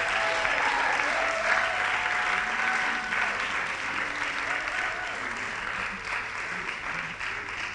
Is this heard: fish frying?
no